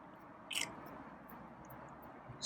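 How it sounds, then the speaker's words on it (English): Faint wet smacking and slurping of a feral animal eating its dinner, with a couple of sharper clicks standing out. "Slurping."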